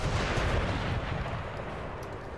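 Artillery fire in the video game Napoleon: Total War, a dense rumble of cannon booms rolling together in quick succession, moderately distant and continuous for a couple of seconds.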